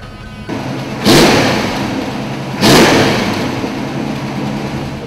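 A 1965 Ford Mustang GT Fastback with trumpet exhaust tips runs nearby, its engine rumbling steadily and surging in two sharp revs about a second and a half apart before settling back.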